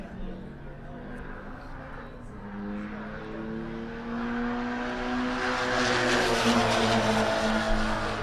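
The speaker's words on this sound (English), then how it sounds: "Followed by Mark A. Lager in his Corvette Z06. That is a TT1, TT2 car" A Chevrolet Corvette Z06 race car running in the TT1/TT2 classes at Buttonwillow during the GTA finals drones past on track, its engine note rising and growing louder over about eight seconds, with faint talk underneath.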